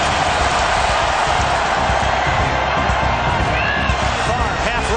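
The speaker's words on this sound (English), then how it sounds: "Listen to this crowd." A packed stadium crowd at a Saints vs Vikings football game roars loudly and continuously, a dense wall of cheering with a commentator talking over it.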